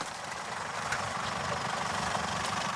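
A vehicle engine idles steadily in the freezing Himalayan mountains of Zanskar at minus 30 degrees, a constant rough hum with a faint knocking texture and no talk over it.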